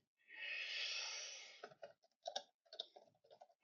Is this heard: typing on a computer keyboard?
yes